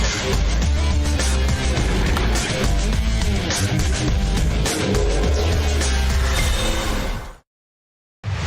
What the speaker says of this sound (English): Cars are negotiating the formation lap